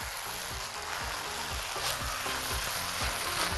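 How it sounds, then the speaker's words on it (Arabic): Freekeh with minced meat, onion and spices sizzles in a pan while being stirred, a constant frying hiss with a repeated scraping rhythm underneath. "ويلا بينا نقلب"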